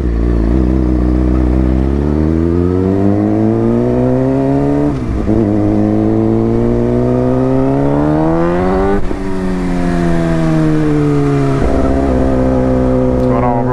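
A Suzuki GSX-R 600 sport bike ridden at speed, its engine whining loud and close as it climbs through the revs, briefly dropping at gear shifts before pulling hard again, with steady wind rush.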